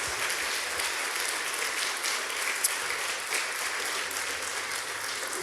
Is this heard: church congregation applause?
yes